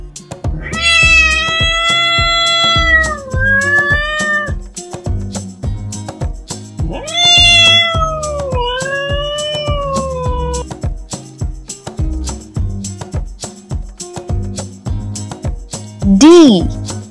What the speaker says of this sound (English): And the sound of the cat is...